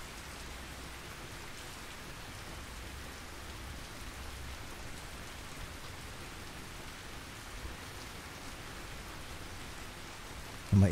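Steady rain from the Russian Fishing 4 fishing game, an even, dense hiss of falling drops that carries on without letup, with a short bump at the very end and no talking.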